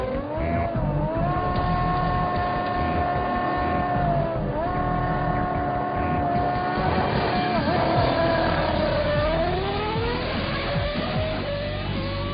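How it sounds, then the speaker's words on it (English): Engines roaring steadily in a quarter-mile drag race between a car, a speedboat and a motorbike, with rising and falling whining tones as gears change, loud and continuous throughout. "This time, Button gets a better start and manages to pull away at the halfway point to take the win in 9 seconds."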